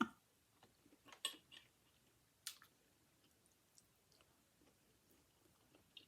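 Someone chewing crunchy asparagus and shrimp egg foo young close to the mic, faint scattered crunches and clicks with quiet pauses between bites, no talking.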